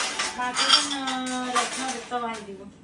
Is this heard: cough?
no